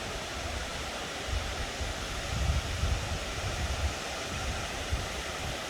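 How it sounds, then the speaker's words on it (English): The waterfall at Hanging Lake, Colorado, gives a steady, broad rush of falling water that fills the scene evenly and continuously with no break. "There's more waterfall up there."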